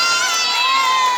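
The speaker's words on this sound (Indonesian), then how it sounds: "Tepuk tangan." Children at a Quran learning group cheering loudly together, a dense, continuous burst of high young voices shouting close by with no distinct clapping.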